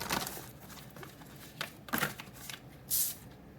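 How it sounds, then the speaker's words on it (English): Tarot cards being shuffled by hand, a series of soft papery riffles and flicks with a brighter burst of card noise near the end, close and alone without talk. "last shuffle here"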